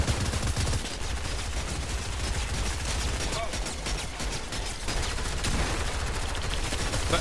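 Dense, continuous automatic gunfire from a machine gun in a squad-based video game, rapid bursts running nearly the whole time at steady loudness, with players talking over it.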